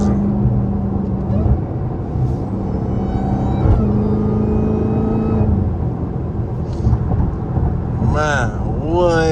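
Dodge SRT Hellcat engine rumbling and revving while cruising a highway at night, a loud continuous drone with rising and falling pitch sweeps near the end, heard from inside the car with some talk over it.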